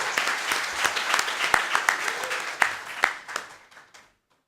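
Seminar audience applauds to welcome a speaker at a plasma technology policy event, a dense, steady round of clapping that fades out near the end.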